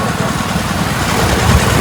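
A newly bought motorcycle's engine runs at a steady idle, a continuous low rumble that holds close and fairly loud throughout, with no other sounds standing out.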